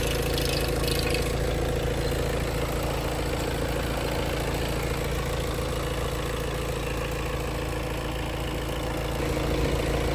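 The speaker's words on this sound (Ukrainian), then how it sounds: "двигун робить бездоганно, маховика не чути, все спокійно" A 2017 VW Tiguan 2.0 engine idles steadily nearby, a constant low rumble with an even hum that never changes pace, no voices present.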